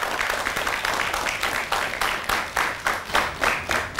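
A studio audience on a chat show claps for Kanmani, a steady dense patter of many hands that swells and eases in waves, fairly close and with no talking over it.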